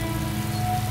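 Rain falling steadily outdoors, an even continuous hiss with no distinct drops standing out, at moderate loudness and with no voices.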